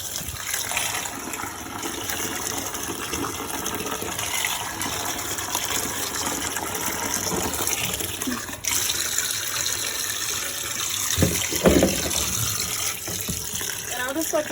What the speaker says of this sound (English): we're just gonna go ahead and add water in here